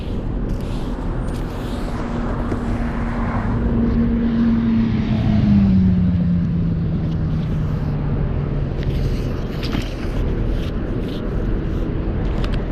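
A train rolls past an Oakland shoreline, a low steady rumble with a horn-like tone that gradually bends downward in pitch, blending with wind and outdoor noise.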